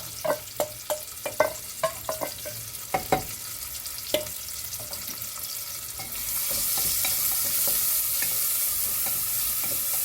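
Sliced onions going into two tablespoons of hot oil in a pressure cooker: a few sharp utensil taps and clinks first, then a loud, continuous sizzle that swells and holds steady to the end.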